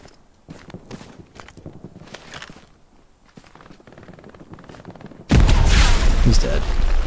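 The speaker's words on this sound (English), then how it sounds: "Nade going up." In the video game Hell Let Loose, a loud grenade explosion bursts in suddenly and keeps booming and rumbling to the end. Before it come footsteps and scattered battle noises, with voices talking.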